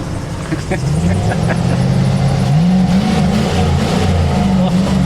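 A Lamborghini engine revs loudly and continuously, its pitch rising and falling through several surges; voices can be heard faintly under the engine.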